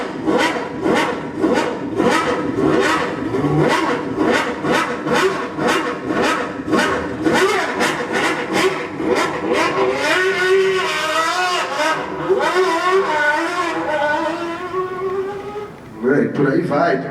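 A 1993–1996 Ferrari Formula 1 car engine revs hard in a rapid series of loud, high-pitched pulses, with people talking over the engine in the later part.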